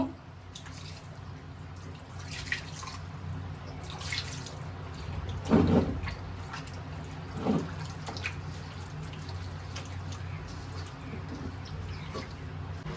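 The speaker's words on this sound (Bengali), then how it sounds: "এবার আটটা ধুয়ে একটু পানি দিয়ে দিব।" Water splashes and drips into a cooking pot of beef with spices and oil in a village kitchen, as the meat is washed and water is added; soft trickles and a couple of louder pours sound over a low background hum.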